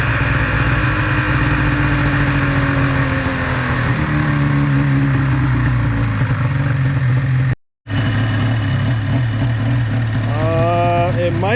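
An old snowmobile engine that sat ten years in a storage container runs loud and steady near the recorder, its pitch rising and falling as it is revved, with one brief dropout partway through.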